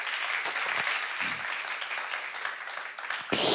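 Church congregation clapping during a sermon at a Korean church seminar, a steady wash of many hands throughout with a louder burst at the end.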